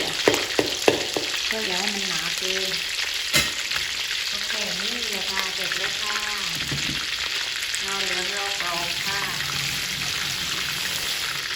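Thai shrimp cakes deep-fry in hot oil with a steady, dense sizzle and bubbling, loud and close, while someone talks over it and a few clinks sound near the start.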